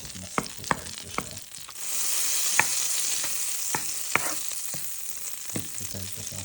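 Clams and garlic fry in melted butter in a pan, a bright steady sizzle that jumps louder partway through, punctuated by sharp clinks and scrapes of a utensil stirring against the pan.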